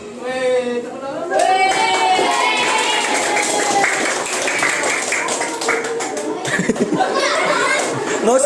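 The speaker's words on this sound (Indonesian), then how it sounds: "tepuk tangan" Children at an elementary school clap their hands amid lively chatter and laughter, with scattered, uneven claps mixing with excited voices and a few louder bursts near the end.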